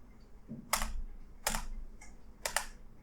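Enter key on a computer keyboard pressed several times, three or four crisp separate clicks spaced about a second apart, close and quiet over a faint room hum.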